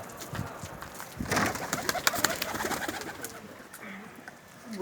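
A pigeon coos repeatedly, close by, over a busy background of other birds' wing flutters and chatter.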